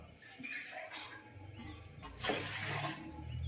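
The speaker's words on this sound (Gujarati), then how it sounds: "હા હવે ઢોકળિયું લીધું છે, હા, એમાં પાણી નાખી દેવાનું" Water is poured into a metal dhokla steamer pot, a faint splashing rush that swells near the end over a quiet kitchen background.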